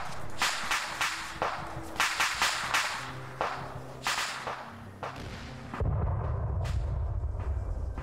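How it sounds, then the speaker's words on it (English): BWAT missile launch in the Arma 3 military video game, a string of sharp cracking reports and whip-like bangs followed by a sustained low roaring rumble as the launch carries on. "That was a BWAT launch"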